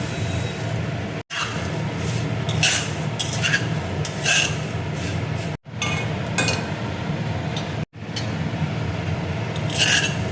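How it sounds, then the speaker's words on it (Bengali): Fried flattened rice (chiwda) is tipped into a pan and stirred, giving steady scraping and rustling with light metallic clinks of a spoon against the pan, broken by a few short pauses. "চিড়ে ভাজাটা দেখো দিয়ে দিচ্ছি।"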